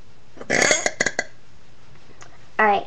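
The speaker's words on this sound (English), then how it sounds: "those burps were much better" Several close, loud burps, a long voiced belch followed by a few short ones, then a final brief burp after a pause.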